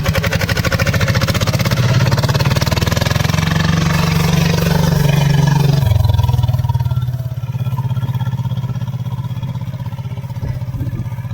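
A tractor engine runs loud and close, a steady throbbing drone that holds strong for several seconds, then drops to a lower, quieter idle for the rest of the stretch.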